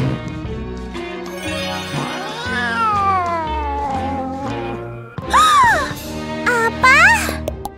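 A cat meows repeatedly in long, wavering, whiny cries that rise and fall, close and loud, with small jingling sounds and some voices mixed in.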